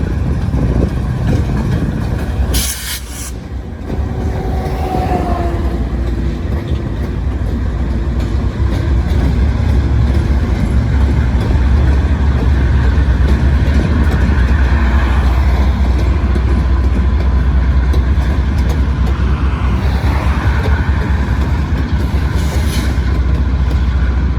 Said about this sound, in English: Boy, those are some nice looking locomotives.